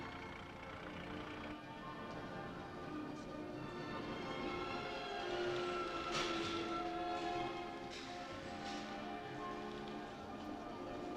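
A train locomotive waits at a station before departure, a steady mechanical hum and rumble with some tonal whine, growing slightly louder midway, with faint clanks around it.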